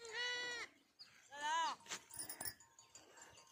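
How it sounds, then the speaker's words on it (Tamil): Lamb or young goat bleating twice in quick, close, wavering cries, followed by a person speaking softly. "இங்கே பாருங்க ஆட்டுக்குட்டி."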